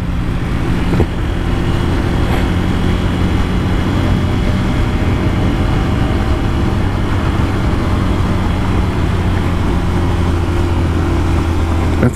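A motorcycle decelerating through city streets in São José dos Campos, a steady low engine drone with a constant hum. The rider is slowing down, so the revs stay low and the sound holds even throughout, with no voices.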